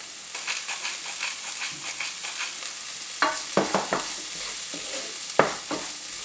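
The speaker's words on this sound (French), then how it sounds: "On fait cuire sur feu moyen." Vegetables seasoned with cumin, hot chili powder and salt cooking in a pan over medium heat: a steady soft sizzle with repeated scraping stirs that grow sharper and more frequent toward the end.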